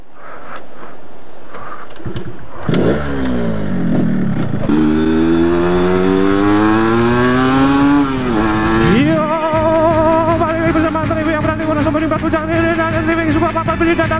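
A motorcycle revs and rides up close, its engine note climbing and dropping through gear changes, loud and continuous throughout.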